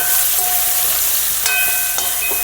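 Mango pickle simmering and stirred over a low gas flame, a steady close hiss of sizzling with a few faint scraping clicks of stirring throughout.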